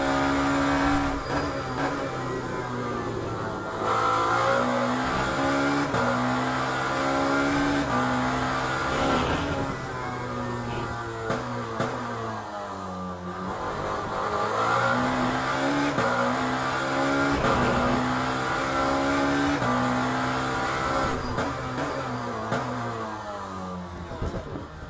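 A race car engine revs hard in the Le Mans Ultimate racing game, rising and falling through gear changes over a continuous loud drone, without talk.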